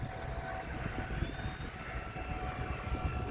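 An E-flite T-28 1.2m RC model airplane flies overhead between rain showers, its steady electric whine and propeller drone carried at a distance over outdoor background noise.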